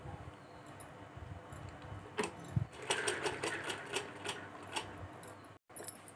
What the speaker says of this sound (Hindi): अब बैक साइड का जो तीरा होता है उसको सिलाई लगाऊंगी